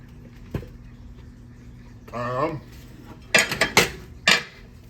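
A big metal cooking pot of rice is handled on the stove, giving a sliding scrape and then several sharp, loud clanks and knocks of metal on metal in quick succession, close by, with no talking.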